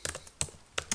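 Several keystrokes on a computer keyboard while text is typed into a PHP script, a few separate taps spread unevenly across one second, fairly close and quiet, with no talk.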